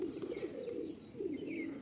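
Pet pigeons at a loft in Sankrail, Howrah, coo in a steady low rolling murmur that runs through the whole stretch, with a soft pause near the middle before the cooing swells again, close and moderately loud.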